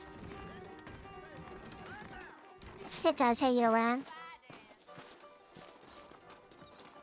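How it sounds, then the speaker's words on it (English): In the video game Red Dead Redemption, a horse's hooves clip-clop steadily while the horse gives one loud whinny partway through. Voices talk over the hoofbeats. "Oh yeah, we're gonna ride a horse."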